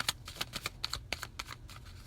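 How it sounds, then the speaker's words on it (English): Tarot cards are gathered and shuffled by hand, producing a quick run of soft, dry clicks and riffling taps. They come close and fairly quiet at an uneven rhythm, and nobody talks. "as I was trying to put all of the cards back together to start shuffling again"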